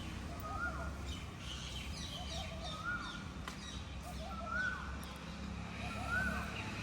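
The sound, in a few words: birds chirping in the morning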